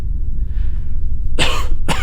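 A voice performer in a dramatic reading of Poe's The Cask of Amontillado imitates a cough: two harsh, close bursts follow a quiet, low rumbling pause.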